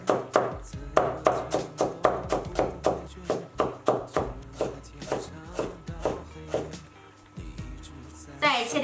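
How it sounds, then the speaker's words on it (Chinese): A knife chops half a red carrot into a fine mince on a board with a fast, even run of crisp thuds that slows and thins out toward the end. "最后切成末儿"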